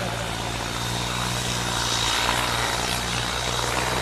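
Tractor engine running steadily and loud throughout at a rural tractor pulling contest, a continuous droning rumble with strong low harmonics and no talk over it.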